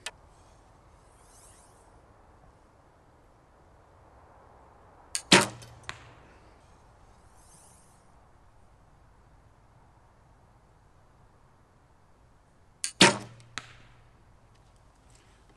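Two arrows are shot from a Win&Win bow with NS-XP foam limbs, each release a sharp snap and thwack with a brief trailing hum, spaced about eight seconds apart over quiet outdoor background with no talk.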